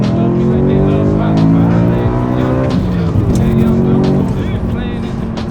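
A BMW M3 with a new aftermarket exhaust accelerates hard, a loud, close engine roar rising through the gears with harmonic drone and brief shifts, steady throughout.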